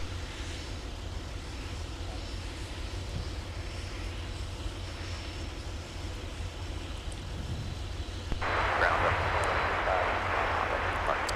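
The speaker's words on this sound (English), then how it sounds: "Got distracted by the taxiing Cessna citation in front of us." A Cessna Citation jet taxiing at snowy MSP airport in winter, a steady engine rumble and hiss holding throughout, then swelling louder and brighter toward the end as the jet draws closer.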